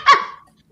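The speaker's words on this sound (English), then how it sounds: "The dogs are all barking in validation." A single sharp, close dog bark rings out briefly and fades into quiet.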